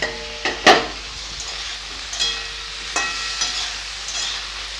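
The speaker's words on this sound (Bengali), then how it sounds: "একটু ঢাকা দিয়ে দিয়ে ভাজতে হয়" Cauliflower pieces for a home-style cauliflower roast frying in a covered pan, a steady soft sizzle with a few sharp clinks and scrapes of a lid or utensil, close and fairly quiet.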